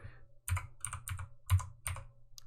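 A computer keyboard is typed on in several quick bursts of close, crisp key clicks, with short pauses between them and a low hum underneath.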